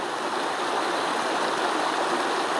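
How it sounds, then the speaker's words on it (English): Creek water running over a flat rock on a backpacking trail, a steady close rushing and splashing wash with no talking. "a creek running over a flat rock"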